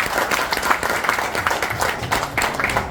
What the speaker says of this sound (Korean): 박수로 함께 마무리 지어주세요